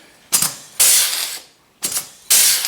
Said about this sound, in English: how much easier this air riveter makes